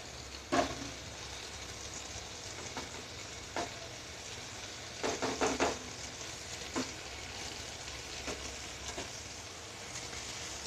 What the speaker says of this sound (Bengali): চিকেনটাকে আমি ভালো করে একটু নেড়ে চেড়ে কষে নেবো।